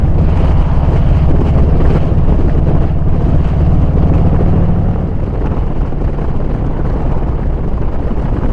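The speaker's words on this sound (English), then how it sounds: "It's a bit windy here." Strong wind off the sea on the Scottish coast buffets the microphone in a steady, loud, low roar that continues without a break.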